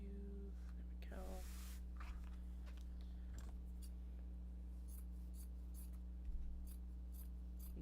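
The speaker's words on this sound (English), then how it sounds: "trimming up the drawstring channels, and then we'll cut it in half" Scissors snip through Japanese fabric while trimming bag drawstring channels, a few close, crisp cuts spread over a steady low background hum.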